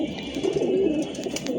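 Pigeons coo softly in a loft, a close, low, rolling call over a quiet background.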